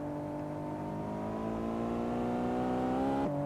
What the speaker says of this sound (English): Listen to this car.